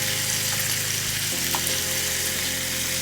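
Jerk shrimp sizzles and fries steadily in a hot pan, a dense, continuous crackle that stays loud and close throughout, with no talking over it.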